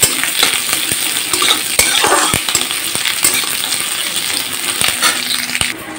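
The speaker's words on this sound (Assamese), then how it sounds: "পিয়াজখিনি অকণমান ভাজি ল'ম" Onions frying in hot oil with bay leaves and cloves for a village-style chicken curry, a steady sizzle broken by repeated sharp scrapes and clinks of a spoon stirring against the pan.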